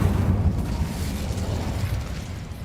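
Incendio fire spell cast in Hogwarts Legacy: a loud, deep whooshing burst of flame that roars densely at first, then settles into a rumbling, crackling burn that slowly eases over a few seconds.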